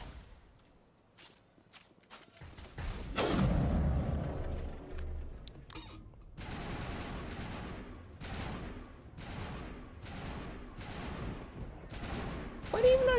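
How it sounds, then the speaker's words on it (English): Video game gunfire: a dense burst of shots followed by a steady series of sharp, evenly spaced reports, fairly close and punchy, with a quiet voice briefly in the background. "What even are you shooting at,"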